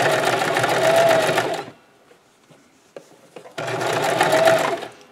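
A sewing machine zigzag-stitches along a fabric edge for a scrub cap, two loud close bursts of rapid whirring stitching separated by a short pause with light handling noises.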